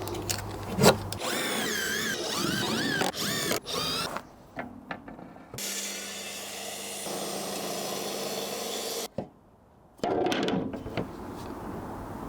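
A power drill drives screws into wood during a garden landscaping build, whirring in several bursts with one long sustained run, close and loud, with clicks and handling noise between.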